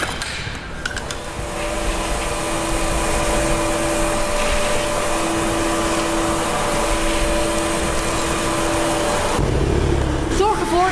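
A vacuum cleaner used for cleaning up quartz dust runs with a loud, steady whine and airy roar that holds for most of the stretch before cutting off near the end, recorded close up.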